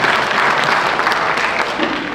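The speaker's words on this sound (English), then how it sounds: "I just want to give them a great round of applause for that" Steady audience applause fills the room at a children's summer taiko drumming recital, honoring the volunteers with dense, even clapping that holds throughout without pause.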